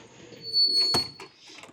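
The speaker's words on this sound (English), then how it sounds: "Front door." The front door of a 2003 Monaco Windsor motorhome opens with a short rattling latch click and a quick thump, close by in a quiet interior.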